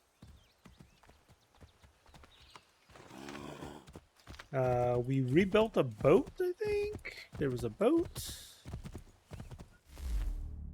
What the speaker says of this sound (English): I can call a horse.